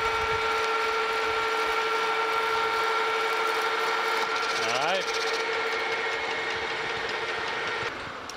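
A horizontal milling machine cuts a steel arbor with a sustained, close tonal whine. The pitch sweeps briefly about midway, and the cut ends near the close.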